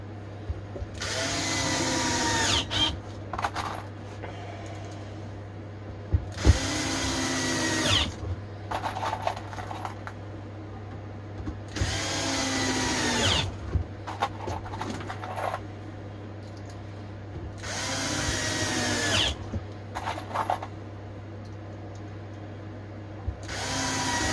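A power drill drives long screws into wooden casework for a mains conditioning hub. Five loud, close bursts of drilling of a few seconds each alternate with pauses, over a steady low electrical hum.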